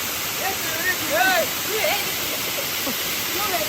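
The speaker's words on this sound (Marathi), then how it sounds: "मी पोचलो आहे इथं धबधब्यावर" Waterfall at a monsoon picnic spot, a steady broadband roar of falling water filling the scene, with a person talking over it throughout.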